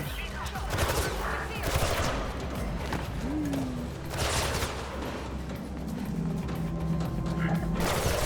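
Security turret firing in Mirror's Edge Catalyst, a dense rattle of rapid gunfire bursts mixed with mechanical clatter, loud and continuous across the clip with a few swells.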